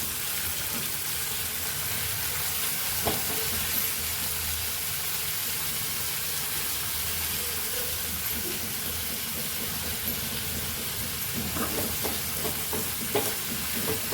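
Chopped dill leaves with turmeric powder being stirred in a frying pan make a continuous close sizzle and hiss, with a few sharper scraping stirs near the end and no voices.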